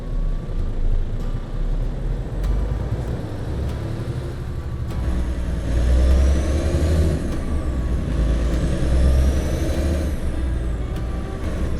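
An American truck in the driving game American Truck Simulator rumbles heavily in a rural Missouri setting, with a low engine drone, sharp air-brake hisses and passing vehicle sweeps, close and loud throughout with no talk.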